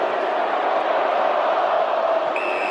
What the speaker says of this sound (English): As the Geelong crowd starts to go around the MCG